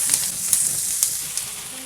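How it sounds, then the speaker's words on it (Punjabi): Potato and ivy gourd pieces sizzle steadily in hot oil in an open pan, a close, loud continuous frying hiss with a few light clicks of stirring. "ਮੈਂ ਆਲੂ ਔਰ ਕੁੰਦਰੂਆਂ ਨੂੰ ਨਾ 2 ਮਿੰਟ ਤੱਕ ਇਸ ਤਰ੍ਹਾਂ ਖੁੱਲਾ ਹੀ ਭੁੰਨ ਲਿਆ"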